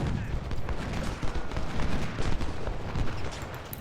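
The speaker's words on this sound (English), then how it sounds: "Volley fire." Massed musket volleys from a Civil War battle in Ultimate General: Civil War, rolling crackling gunfire and booms layered densely for several seconds, mid-distance and continuous.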